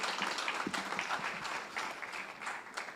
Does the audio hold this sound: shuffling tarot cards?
no